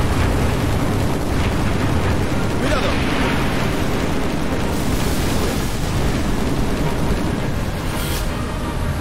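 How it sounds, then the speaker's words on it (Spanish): Explosions in the video game Halo 3 on PC, heard as a continuous loud, dense rumble with roaring bursts throughout, no voices over it. "Las explosiones se ven muy bien,"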